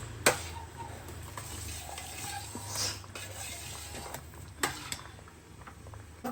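Halwa being stirred and cooked in a pan, with soft scraping of a spoon against metal and a faint sizzle, close and fairly quiet with occasional clicks.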